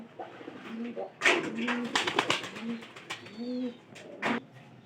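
Pigeons of the Pyari breed coo in a loft, with several soft, rounded low coos repeating at an unhurried pace, mixed with a few sharp wing flaps and scuffling sounds close by.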